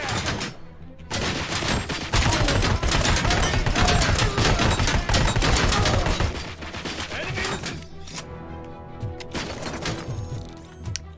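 Dense, rapid bursts of gunfire from a strange weapon in a RoboCop game rattle loudly for several seconds, then thin out into separate mechanical clatters and a faint voice.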